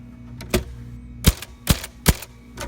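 A Remington Quiet-Riter basket-shift typewriter struck lightly during a typeface alignment test: four distinct key strikes, close and crisp, spaced unevenly over a quiet background.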